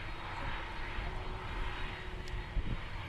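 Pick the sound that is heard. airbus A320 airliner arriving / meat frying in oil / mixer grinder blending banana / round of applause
airbus A320 airliner arriving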